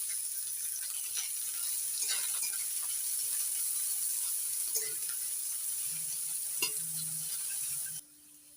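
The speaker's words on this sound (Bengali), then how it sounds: "পেঁয়াজগুলো লালচে করে ভেজে নিয়েছি" Sliced medium onion frying in oil flavored with fried dried red chilies, a steady close sizzle with scattered stirring scrapes and clinks, stopping abruptly near the end.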